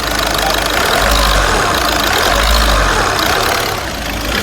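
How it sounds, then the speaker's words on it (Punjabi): A car engine with an injector fault idles loudly up close, its low rumble swelling in slow pulses with a rough, knocking rattle running through it. "ਦੇਖ ਲਓ ਵੀ ਪਹਿਲਾਂ ਇੰਜਨ ਦੀ ਸਾਊਂਡ ਹੈ ਕਿੰਨੀ ਹੈ"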